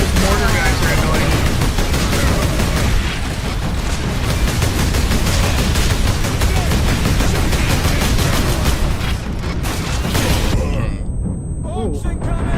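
Dense, continuous gunfire and explosions from the Space Marine video game rattle along loudly for several seconds, rapid bursts piling over one another before thinning out near the end.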